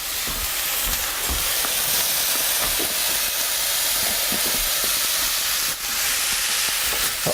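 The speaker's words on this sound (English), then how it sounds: "And now we're gonna add the swordfish." Swordfish pieces sizzle loudly in a hot pan alongside cooked spinach, a steady bright hiss running throughout with a few small pops and clatters, no voices.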